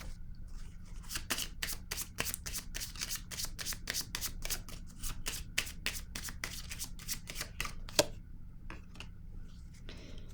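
A deck of tarot cards being shuffled by hand, rapid rhythmic riffling flicks that repeat closely for several seconds and then thin out into a few scattered taps.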